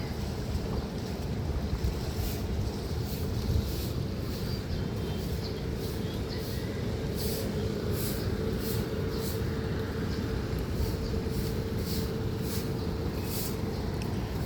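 A steady motorboat engine rumble drones on beneath wind and splashing water, continuous and moderately loud, with faint rhythmic ticks above it.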